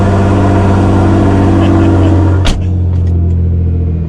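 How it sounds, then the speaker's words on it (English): Nissan GT-R R35 engine idles loudly after a cold start, a deep, steady rumble close to the microphone, broken by a sharp click midway before the drone carries on. "GTR makes some noise too. Cold start."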